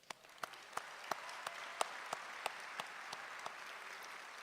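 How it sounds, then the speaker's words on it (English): An audience applauds student entrepreneurs at a mayor's State of the Community address: distant, faint crowd applause under a steady wash, with a series of evenly spaced sharp single claps standing out about three times a second. "I want to give them all a round of applause"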